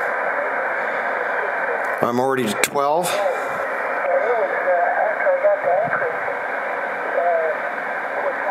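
A radio receiver with a loose BNC ground gives a steady, even hiss of static throughout, while someone talks over it.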